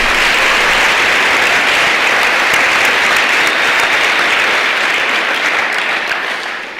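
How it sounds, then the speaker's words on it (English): Audience at a state legislative general session with Arkansas legislators gives a loud, sustained round of applause that fills the room evenly, then thins slightly near the end. "Let's give one more final round of applause for our Arkansas Boys State Caucus"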